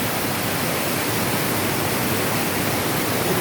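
Heavy rain pouring during flooding, a dense unbroken hiss of water that stays loud and constant throughout.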